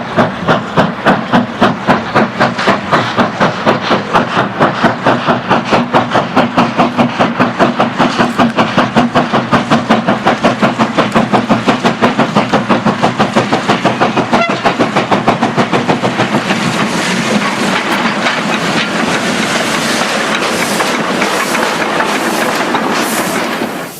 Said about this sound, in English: The train is the 1511 hours from Dahuichang, or Tiefa, to Daiming.